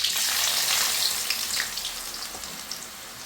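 Chopped onions frying in a pan for biryani, a steady bright sizzle with crackling pops, loudest at first and easing slightly as it continues.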